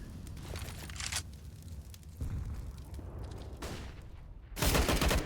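Gunfire in Counter-Strike on the Nuke map during an esports match, quick bursts of rifle shots in several clusters with short gaps, the loudest burst at the end, and no talk over it.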